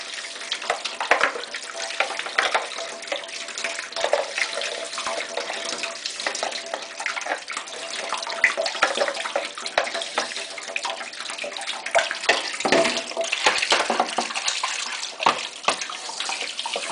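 Hot water runs from a tap to rinse soap scum out of a Samsung washing machine detergent drawer, a steady close splashing rush that continues throughout.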